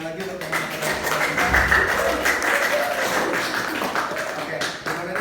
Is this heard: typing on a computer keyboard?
no